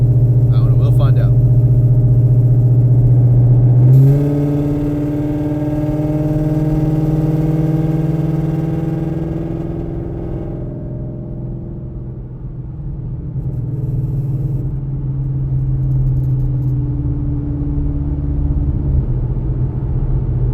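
A tuned FBO Ford Mustang S650 pulls hard in a 60 roll, its engine note climbing sharply in pitch after a few seconds, then settling into a sustained loud drone that gradually eases off.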